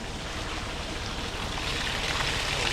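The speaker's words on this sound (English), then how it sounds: "So Lance is just going to pour the milk in." Milk pours into a calf feeder on a New Zealand dairy farm, a continuous close splashing gush that holds steady and swells slightly toward the end, with no talking.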